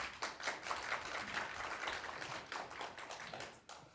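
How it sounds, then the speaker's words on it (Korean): Attendees at a heritage agency's expanded heads-of-institutions meeting break into dense, brisk applause that stays fairly steady for a few seconds before tapering, heard at a modest distance with no voices over it. "박수 한번 쳐주십시오"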